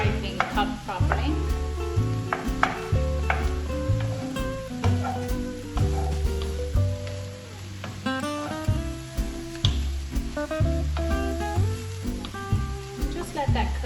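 Aubergine cubes frying in a pan are stirred and broken up, giving a steady sizzle with scraping stir strokes, partly masked by prominent tonal background music.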